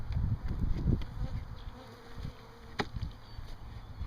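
A honeybee buzzes close by near a mason jar of feeding mixture, its drone rising and fading in irregular bursts with faint handling sounds.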